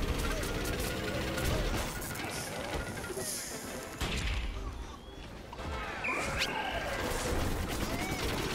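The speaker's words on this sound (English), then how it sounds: "here's a dark beam bomb" Loud crashing blasts and gunfire-like bursts from a dark beam bomb going off in a Plants vs. Zombies–style shooter, the Dark Garlic Drone's battle, with continuous game chaos and a player talking over it.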